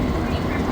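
Montreal Metro AZUR train, set 42, running underground between stations late at night, a steady close rumble of wheels and motors filling the car.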